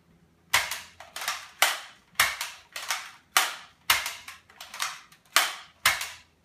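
A Nerf blaster fires single shots one after another, about a dozen sharp pops spaced roughly half a second apart, close and clear with no talking.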